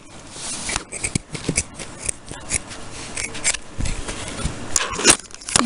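Scissors cut through fur fabric, close and crisp, with a run of irregular snips and rasping, rustling strokes as the blades chew through the pile.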